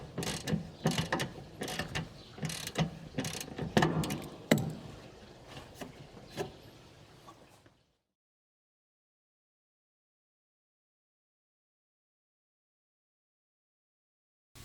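A ratchet turns a screw to mount a rear diffuser on a 2015+ Mercedes C300 W205, a quick run of close clicking strokes that stops abruptly, leaving silence.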